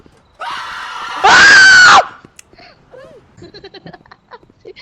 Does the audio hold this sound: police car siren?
no